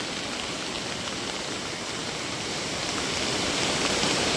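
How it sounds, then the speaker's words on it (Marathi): Heavy rain pouring down steadily over a flooded riverside village during an all-day downpour, a dense, even roar of water with no pauses that swells slightly toward the end. "आज दिवसभर पाऊस आहे. सकाळपासून खूप जोरात लागतोय."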